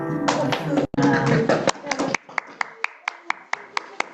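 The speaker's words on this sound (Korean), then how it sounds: "우리 하나님께 영광의 박수 올립니다." Church congregation at a Sunday worship service clapping in applause, a dense burst of hands that thins out into a few sharp, evenly spaced claps, with singing or voices heard underneath at the start.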